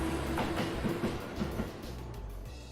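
A train rolls past in the video game Trails of Cold Steel, a steady rumble with faint rhythmic clacking that keeps an even loudness for a few seconds with no voice over it.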